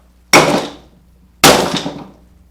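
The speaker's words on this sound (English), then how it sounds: "Broken glass." A hammer strikes twice at a tungsten light bulb wrapped in a plastic bag. Each blow is a sharp, loud crack followed by a brief crunch of breaking glass, with about a second between the two.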